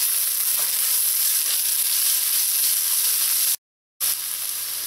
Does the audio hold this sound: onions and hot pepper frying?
yes